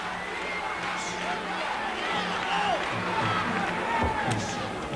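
Arena crowd at a Muay Thai fight between Dida Diafat and Saimai Chor Suananant roars and cheers in a sustained, moderately distant wash, with a commentator talking over it.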